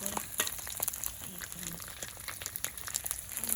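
Steady, close sizzling of food frying in a pan, a continuous crackle with faint stirring clicks, no voice over it.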